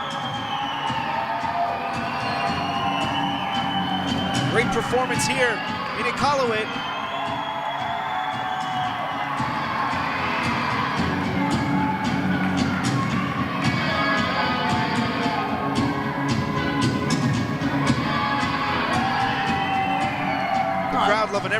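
Wrestling crowd in Iqaluit cheering and shouting steadily in the background under continuous commentary from a man.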